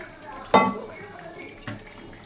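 Stock is poured into a pot of simmering mutton curry with a sudden splashing gush, followed by a softer second splash and bubbling, close and fairly loud.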